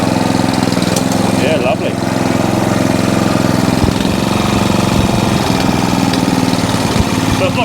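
Qualcast Suffolk Punch 14sk cylinder lawn mower petrol engine running steadily up close, loud constant chugging drone with a rapid rhythmic beat, not revving cleanly; someone speaks briefly over it.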